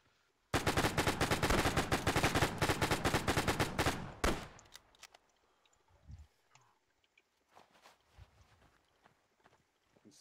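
Sustained rapid automatic gunfire from the video game Arma 3 rattles loud and close for about four seconds, then breaks off into scattered single shots and thuds, with faint voices in the background.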